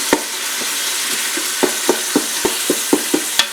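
A spoon stirring a blended cottage cheese lasagna mixture in a bowl, producing a steady series of soft scraping knocks and taps, close up, with no talking.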